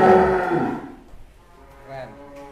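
A Brahman-Pegon cross cow lows loudly once on a farm in Bogor, and the moo fades out. Quieter farm background sounds follow.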